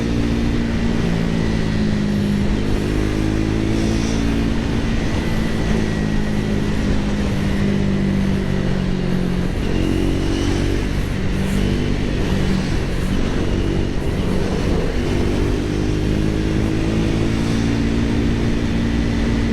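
Triumph Speed 400 motorcycle ridden fast at around 130, its single-cylinder engine droning loud and steady with a shifting pitch, buried under heavy wind roar for the whole stretch.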